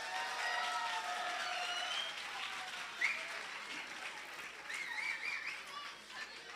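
An audience claps for Reb Mendel Gerlitsky in sustained, moderately distant applause, with scattered whistles and cheers rising above the clapping now and then.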